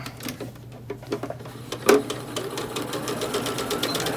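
A sewing machine runs back and forth through terry towel fabric, a rapid mechanical chatter that pauses and restarts with a louder clack midway, close up and without speech.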